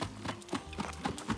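Horse hooves clip-clopping in a quick, uneven rhythm of close thuds, heard during a horse sale, lasting only a moment with no talk.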